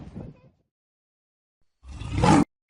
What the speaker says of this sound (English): The lion is a large cat of the genus Panthera native Africa.